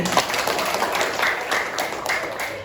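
A class of students claps together, a moderate, steady wash of hand claps with scattered louder claps, at middle distance in a room.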